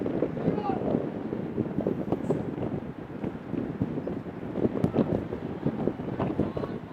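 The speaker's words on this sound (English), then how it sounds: "Getting a little windy up here." Rough, gusting wind buffets the microphone throughout at a boys' varsity lacrosse game, a constant low rumble with irregular thumps, while a voice talks faintly underneath.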